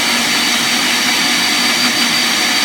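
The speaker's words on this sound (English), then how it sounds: "let's mix everything very well again." An electric mixer whirs steadily and loudly as it beats eggs and sugar for chocolate cake batter, giving a constant, even, high-pitched motor drone with no pauses and no talking.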